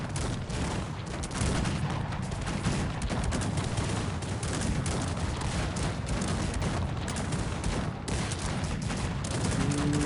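A dense, continuous roar of cannon and musket fire from a large Cossacks 3 battle, with overlapping booms and crackling volleys filling the whole stretch at steady loudness.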